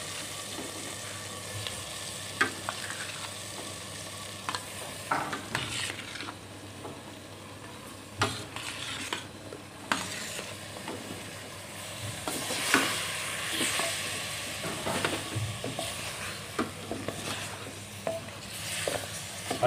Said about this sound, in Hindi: हुण असीं इहदे अंदर है कटी हुई फुट जिहड़ी वो शामिल करांगे